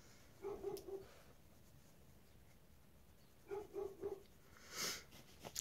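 A dog barks downstairs in a house, giving two short bursts of three or four muffled barks each, faint and somewhat distant, with a sniff-like noise near the end.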